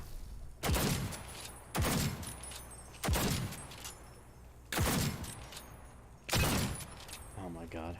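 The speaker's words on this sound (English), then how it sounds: "The fact that plasma grenades are doing like no damage against these things says a lot." Plasma grenades exploding in Fallout New Vegas, five sharp bursts spaced a second or two apart, each decaying quickly, with a faint voice briefly heard between them.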